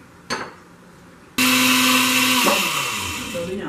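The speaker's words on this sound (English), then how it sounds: "as soon as we're done blending or pureeing our peppers and tomatoes" After a short clunk, a kitchen blender roars to life at full power and holds a loud steady whir as it purees chili peppers and tomatoes for a Mexican hamburger stew, its pitch shifting slightly as the mixture churns.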